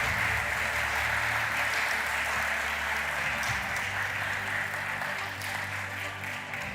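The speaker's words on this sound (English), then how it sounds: "Please give them another round of applause." An audience gives a round of applause at a public speaking event, dense sustained clapping throughout, loud and steady with a low hum underneath, easing slightly toward the end.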